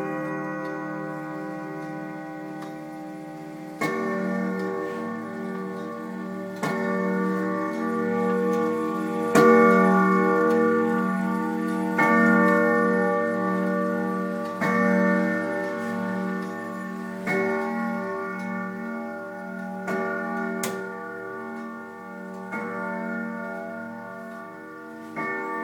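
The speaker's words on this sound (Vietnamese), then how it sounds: "Thử chuông tiếp." A bell being tested, struck repeatedly at roughly steady intervals of a few seconds, each strike ringing with a metallic, harmonically rich tone that lingers and overlaps the next, heard close with no talking.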